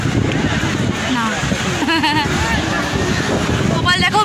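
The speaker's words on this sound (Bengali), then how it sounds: "হাওয়াটা বেশি তো, হাওয়াটা রয়েছে" Strong seaside wind at Digha buffets the microphone in a constant low rumble while people talk over it close by.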